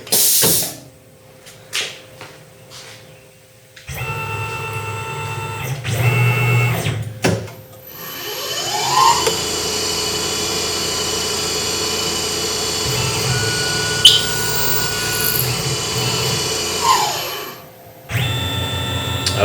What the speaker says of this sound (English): From the pre-ream end mill to the solid carbide reamer.